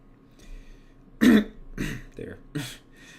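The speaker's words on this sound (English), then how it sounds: "I'm trying to cough it out" A person coughs and clears their throat in several short, separate bursts, close and fairly loud, trying to shake off hiccups brought on by hot sauce.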